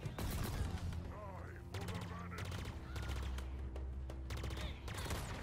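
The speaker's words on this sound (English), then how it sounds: "I like that 3-round burst carbine." Carbine gunfire fires in three-round bursts during Halo Infinite gameplay, sharp repeated cracks mixed with other weapons, explosions and a steady game soundscape, loud and dense throughout.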